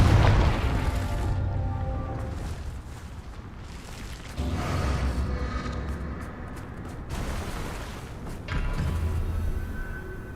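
Fire-spell explosions in the Hogwarts Legacy video game, with heavy blasts about every four seconds over a dense, rumbling game soundscape and no speech.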